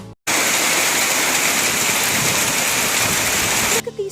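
A dense, steady roar of hailstones and rain pelting down during a hailstorm in Munnar, loud and continuous for several seconds after a brief silent start.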